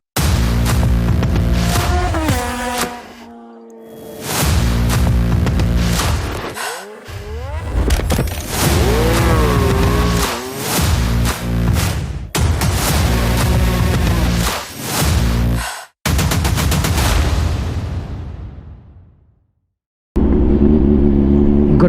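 A Kawasaki ZH2 motorcycle is ridden on the road, its engine droning loud and close with rising and falling revs between gear changes. A brief pause comes near the end, with no talking.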